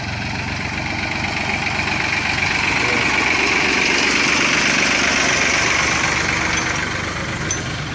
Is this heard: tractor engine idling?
yes